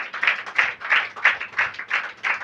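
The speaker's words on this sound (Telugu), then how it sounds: "చప్పట్లు కొట్టినప్పుడు" A church congregation claps hands loudly together in a steady rhythm, roughly three claps per second, close and forceful with no voices over it.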